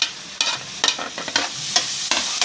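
Onions, green chillies and tomatoes frying and being stirred in a pan for a okra and egg curry, with repeated scraping stir strokes over a steady low sizzle, close and moderately loud, no talking.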